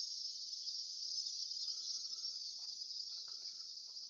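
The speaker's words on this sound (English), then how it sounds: "the cicadas, but they're noisy as shit today" A steady, high-pitched cicada buzz drones continuously on a hot day, with faint scattered sounds underneath.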